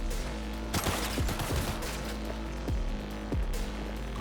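Bursts of gunfire in Cyberpunk 2077, several sharp shots and short volleys scattered irregularly over a steady game background, fairly quiet overall.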